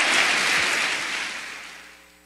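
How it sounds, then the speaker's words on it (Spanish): A church congregation applauds together, a dense wash of clapping that holds steady and then gradually fades, heard from a distance in a large room. "Dele fuerte el aplauso al Señor, por favor"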